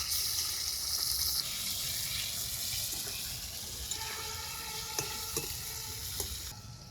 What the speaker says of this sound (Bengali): লেজার সাথে মাথার কাটা কুটাগুলো ভাজি